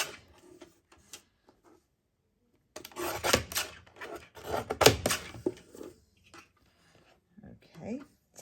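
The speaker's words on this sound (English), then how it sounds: "Now I'm just going to trim this down just so it's all nice and even and to make sure it fits in the envelope." Paper is trimmed down to fit an envelope, with scattered close-up scraping and cutting sounds in short bursts, some quiet gaps in between.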